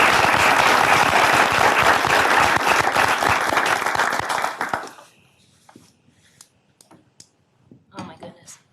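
Loud, dense audience applause welcoming the guest lecturer at a humanities lecture, steady for about five seconds before cutting off, followed by a few faint scattered claps and rustles.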